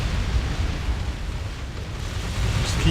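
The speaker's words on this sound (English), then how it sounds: "Just keep on bombarding them." Planetary bombardment in the space strategy game Distant Worlds Universe rumbles as deep, rolling explosions, a continuous low boom that swells and churns for a few seconds without any voice.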